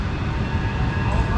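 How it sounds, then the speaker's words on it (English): A Manchester Metrolink tram arriving at a station rumbles steadily nearby, with a continuous low mechanical drone and rail noise that holds at an even loudness. "Also arriving in is a Metrolink tram"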